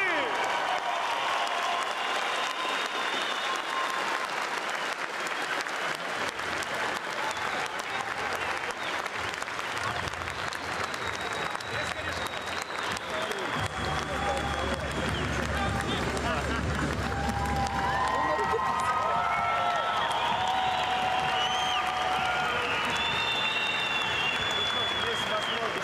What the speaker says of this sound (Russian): Дорогие друзья, ну что, аплодисменты, овации!